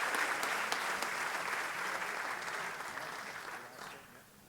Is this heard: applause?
yes